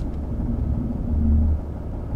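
A RAM pickup truck with factory air suspension creeps forward a short distance, its engine giving a low, steady rumble close by that swells briefly midway before easing back, with no talking.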